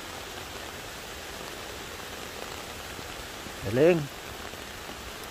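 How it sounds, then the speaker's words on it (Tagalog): Steady rain falling at Bunga Falls in Nagcarlan, Laguna, a soft even hiss throughout, with a brief voice speaking over it midway. "Ganda sana kung walang ulan. Kaya lang, inaabot ng ulan."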